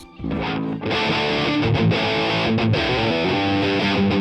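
Heavily distorted electric guitar runs through a Neural DSP Archetype Tom Morello amp plugin with the gain near maximum, playing loud, dense chords and riffs after a short opening strum.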